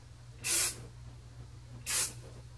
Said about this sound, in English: I pull my bangs over, spray them off to the side.